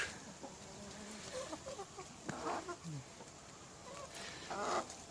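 Farmyard chickens, including a young white chick, cluck in short scattered bursts at moderate distance, with soft outdoor background noise and no one talking.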